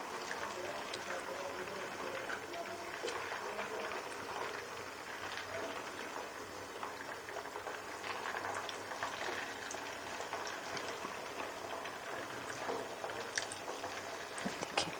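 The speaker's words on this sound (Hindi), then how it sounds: "तो इस तरह करके हमने फ्रेंच फ्राइज फ्राई कर लेने हैं।" French fries frying in a pan of oil, with a steady bubbling sizzle and faint crackles that run the whole time at a low level, with no voice over it.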